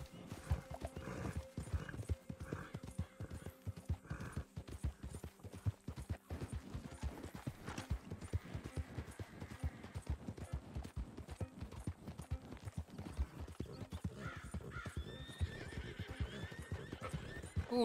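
Wild horses in the Red Dead Redemption 2 video game: a steady run of hoofbeats clip-clopping over ground, with several whinnies and neighs rising above them, close and fairly loud throughout with no talk.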